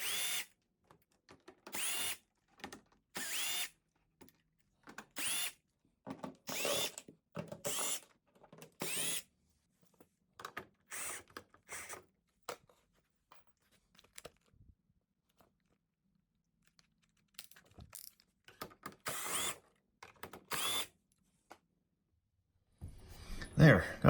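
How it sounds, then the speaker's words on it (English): A power drill backs screws out of the rear panel of an old television, whirring in repeated short bursts separated by pauses, close and fairly loud, with a brief clatter at the end. "the first step in this process is to remove all the screws from the back panel."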